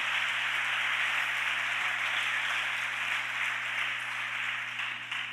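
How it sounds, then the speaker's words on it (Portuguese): Church congregation applauds for Jesus during a Portuguese-language sermon on God's angels, a steady dense wash of clapping heard from a distance, even and sustained throughout with a low electrical hum underneath. "Dá uma salva de palmas para Jesus."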